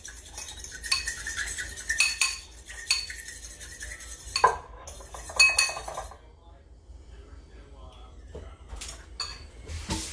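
Lime juice and oil whisked together in a bowl for a watermelon cucumber salad dressing, with repeated clinks and scrapes of utensil against the bowl in uneven bursts, then quieter stirring.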